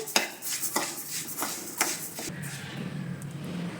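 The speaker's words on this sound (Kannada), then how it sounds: "ಸ್ವಲ್ಪ ಹೆಸರುಬೇಳೆನ ಚೆನ್ನಾಗಿ ಹುರ್ಕೋಬೇಕು" Moong dal being stirred and dry-roasted in ghee in a metal pan for payasa: repeated close scraping and clinking of a spoon against the pan, with a soft, steady rustle in between and no voices.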